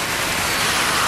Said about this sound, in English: I'm just really enjoying this rain.